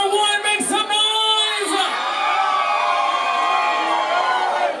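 A packed Halloween party crowd roars, cheers and yells in a loud sustained burst, voices whooping and bellowing close by throughout.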